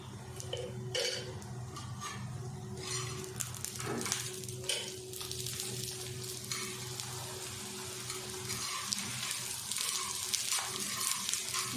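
Missi roti fries in ghee on a hot griddle, a steady close sizzle with occasional scraping and stirring clatter throughout.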